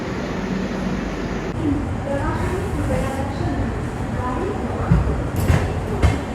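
The Pune–Ajni AC Express rumbles past the Sevagram Express at Akola Junction, a loud, continuous low rail roar with rattling carriages and clicks, heard from inside the moving train while a voice talks over it.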